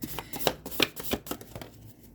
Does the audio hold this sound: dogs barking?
no